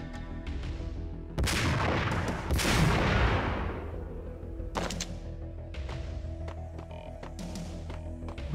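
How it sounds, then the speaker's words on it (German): Gunfire from a sniper rifle in the video game Max Payne: several sharp, loud blasts with long booming tails, followed by a steady rumbling game background and smaller clicks and hits. "Den da unten holen wir uns hier mit einem Sniper."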